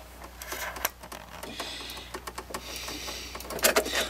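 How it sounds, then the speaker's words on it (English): Spring-loaded screws are worked loose inside a classic Mac Pro 5,1 tower, giving a close, busy run of small metallic clicks, ticks and rattles with no talk, ending in a slightly louder cluster. "just unscrew the spring-loaded screws that are here"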